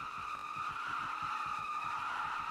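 A Hellcat-engined wagon doing donuts in the Roblox game Greenville, tires squealing in one continuous high-pitched skid over a low engine rumble, steady and fairly close.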